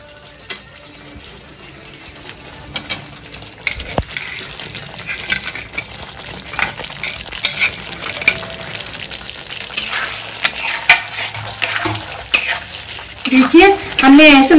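Paneer cubes sizzle and fry in a spiced masala gravy in a pan while a spoon stirs and scrapes, a steady close crackle with clattering stirring that grows busier toward the end.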